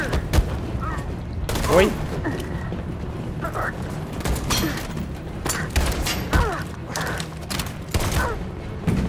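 Gunfire in the video game Detroit: Become Human, rapid irregular bursts of sharp shots and thuds in a chaotic firefight, loud and close, with a brief exclamation from a voice among them.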